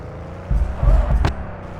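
Car engine in the video game Valet Simulator, a short low rumble swelling and fading over about a second with a sharp click or bang in the middle.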